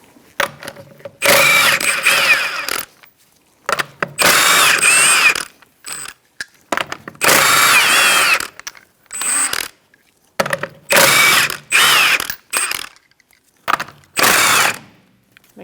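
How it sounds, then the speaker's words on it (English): Air impact tool bursts loosening lug nuts with a 21mm socket on a 2004-2009 Mazda 3 rear wheel, several loud rattling runs of one to two seconds each separated by short pauses, close up with no talk. "Using a 21mm socket,"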